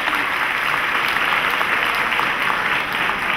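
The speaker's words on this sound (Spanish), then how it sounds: "recibamos con un aplauso a Javier Sanabria" Loud, dense applause from a school seminar audience welcoming a speaker, continuous throughout with no talk.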